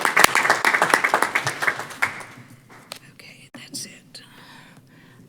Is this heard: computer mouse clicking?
no